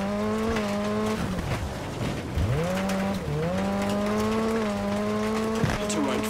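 Carlos Sainz's 2004 Citroen rally car in WRC 10 keeps up a loud, continuous engine note that rises and falls through gear changes and revs, with tire noise beneath and a co-driver's voice over the top.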